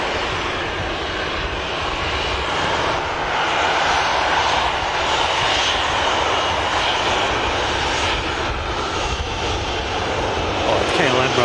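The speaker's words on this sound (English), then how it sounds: "Let's listen to this engine start." A KLM airliner's jet engine spools up at an airport, a loud continuous roar and whine heard from some distance, with wind noise and a voice talking over it at times.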